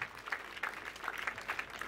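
A church crusade audience applauding, faint steady clapping with soft crowd noise rising and falling for a couple of seconds.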